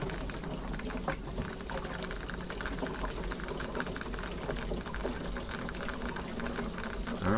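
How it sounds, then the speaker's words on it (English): Hot water rushes and splashes steadily into a lawn sprayer tank, a continuous churning pour with a faint low hum underneath. "I'm actually putting all hot water in here"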